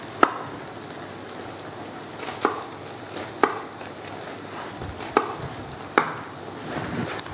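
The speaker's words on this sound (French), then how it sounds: "On va ciseler une échalote qu'on va mettre sur la farce" A knife mincing a shallot on a cutting board for a Black Angus stuffing: sharp, separate chops land about once a second, clear and close, with no talk.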